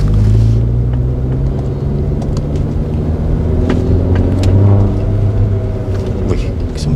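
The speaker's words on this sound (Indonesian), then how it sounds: "Jadi bunyi knalpot itu masuk ke dalam kabin itu melalui dek belakang." A car engine idles with a steady low rumble and throaty exhaust hum, continuous and fairly loud throughout.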